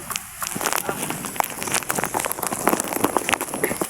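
Steady rain patters on a surface nearby, with scattered sharp drips and splashes over a continuous hiss.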